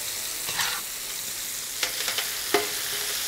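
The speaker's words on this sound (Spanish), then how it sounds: "Echamos nuestros caracoles." Snails are added to a rabbit paella pan, bringing a steady bright sizzle of frying with a few sharp clicks and scrapes as they land and are stirred in.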